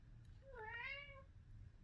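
A house cat gives a single clear, rising-and-falling meow indoors, close and moderately loud over a low background hum.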